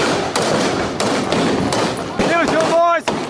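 A B.A.R. automatic rifle fires blanks at a WW2 reenactment in Carthage, Tennessee, with loud, close, sharp reports at irregular intervals, while a voice shouts over the gunfire.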